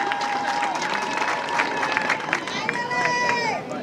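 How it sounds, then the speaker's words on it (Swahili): A crowd at an outdoor Mashujaa Day celebration applauds security personnel, clapping and cheering spread across the gathering under a loud amplified voice and a held musical tone. "Situwapigie watu wa security makofi"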